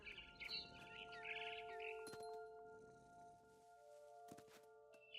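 Faint chirps and tweets from a barn swallow in What Remains of Edith Finch come in short clusters, with soft thuds and a quiet humming tone in the background.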